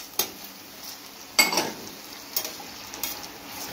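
Tomatoes dropped into a hot pan for a vegetable casserole, with a sharp burst of sizzling followed by lighter crackles and a few stirring clinks, close and alone.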